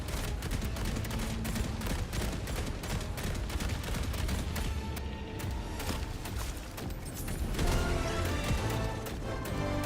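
Sustained rapid gunfire in a shooter video game: dense automatic bursts crack one after another for the whole stretch, loud and close, with only brief thinning between volleys.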